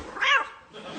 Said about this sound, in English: Now, I'm going to kick the unlucky black cat.